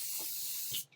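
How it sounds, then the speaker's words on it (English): A short, close hiss of spray on a dog grooming clipper during a Standard Poodle grooming session, one steady burst of about a second that cuts off sharply. "Did I spray my clipper?"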